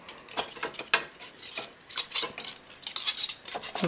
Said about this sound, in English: taking a clean butter knife, I'm just gonna squish it back into